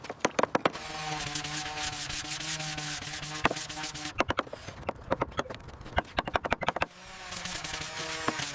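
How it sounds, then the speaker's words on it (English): Steady abrasive sanding that rasps continuously, broken by bursts of sharp clicks and knocks, with a low hum underneath. "Looks good, keep sanding."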